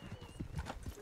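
Hooves clip-clop in quick galloping beats from a horse in the video game GTA 5, with a short whinny, loud and close over a busy game soundscape.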